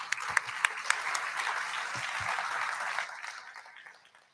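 An audience at a university panel event on digital government gives a warm round of applause for the panelists, a dense burst of clapping with a few sharper claps that holds steady and then fades out toward the end.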